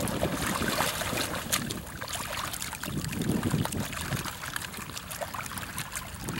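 Pea-sized to grape-sized gravel rinsed in a river, giving a steady wash of trickling, sloshing water with scattered small splashes throughout, close and moderately loud, with no talking.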